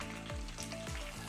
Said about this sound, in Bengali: আদা রসুনের পেস্ট 1 চামচ দিয়ে দেব। সঙ্গে টমেটো একটা, মিডিয়াম সাইজের টমেটো একটা দিয়ে দেব।